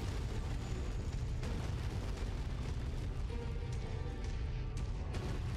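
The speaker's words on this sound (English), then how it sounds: "An explosion sound." Heavy explosions in the mech combat game MechWarrior 5: Mercenaries, a loud, continuous roar of booming blasts and rumbling debris filling the whole stretch, with sharper bursts near the end.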